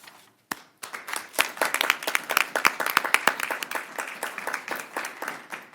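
Audience at a city council meeting breaking into applause, a burst of many hands clapping close and lively that builds quickly, holds, then tapers off.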